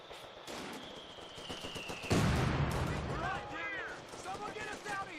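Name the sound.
pack howitzer artillery firing in Company of Heroes video game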